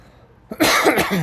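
A single harsh cough close to the microphone, loud and raspy, ringing out after a brief quiet stretch.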